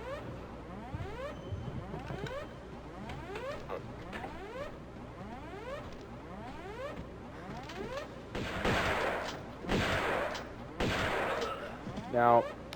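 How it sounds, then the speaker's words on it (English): Shotgun blasts in the video game Tomb Raider 2: several heavy, booming shots cluster near the end, following a stretch of looping in-game music. "this is where I'm going to pull out my shotgun"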